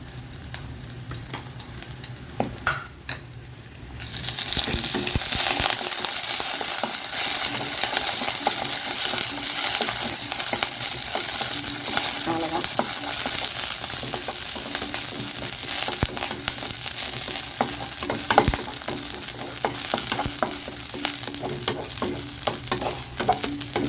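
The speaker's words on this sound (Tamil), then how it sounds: "கருவேப்பிலை பூண்டு பொட்டுக்கல்லையும் வறுத்தாச்சு" Curry leaves, garlic and roasted gram roast in a pan with a steady dry sizzle and frequent rattling, clinking stirs throughout, quiet at first and then filling the rest of the clip.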